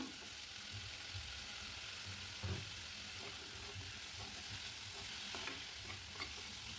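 Onion and capsicum go into a pan with carrots for a homemade beef sizzling dish, giving a faint, even frying hiss with occasional soft stirring scrapes, quiet and continuous with no voices.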